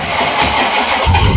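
1962 Ford Falcon gasser engine cranking and catching, with a sticking throttle, heard as a brief loud, rough mechanical churn ending in a deeper burst as it fires, close by.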